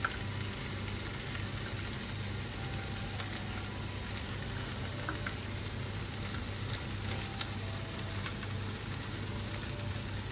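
Blended mushrooms sizzle in a pan with a faint, even hiss and soft crackle that holds steady, with an occasional light tap.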